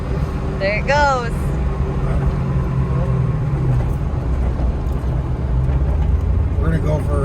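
A 1985 Ford Mustang GT with a twin-turbo engine and six-speed gearbox driving, a steady loud engine drone from inside the car, with people talking over it.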